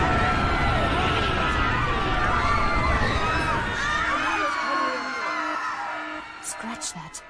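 A panicked crowd screams and shouts in a dense, loud wash of many voices in the Halo 3: ODST video game, with siren-like wails, fading down toward the end.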